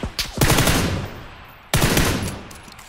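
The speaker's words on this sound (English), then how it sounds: "I'm getting shot from blue somewhere." Gunfire in PUBG: two loud, close bursts of rapid automatic shots, each trailing off into echo, with no talking.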